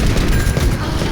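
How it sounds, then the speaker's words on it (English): Bombs explode in the Overwatch Junkenstein event, heard as a dense, rumbling cluster of booms. The bursts are short and overlap in a continuous percussive barrage. "Dr. Junkenstein lobbed his bombs at the castle, the explosions a percussive accompaniment"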